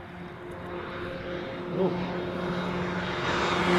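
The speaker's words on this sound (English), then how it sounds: "It was one of the medevac flights." A medevac aircraft flies at Honolulu airport, producing a steady, fairly distant engine drone with a faint tonal hum that swells slightly midway.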